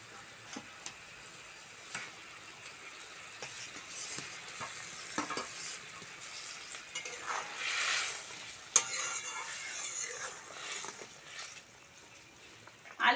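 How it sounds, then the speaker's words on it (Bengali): Fried potatoes go into a boiling broth for a village-style tamarind curry of elephant foot yam stalks. The broth gives a faint, quiet sizzle and bubble, broken by soft clinks and scrapes of a stirring spoon. "ঝোল ফুটে গেছে ভেজে রাখা আলুটা দিয়ে দেবো"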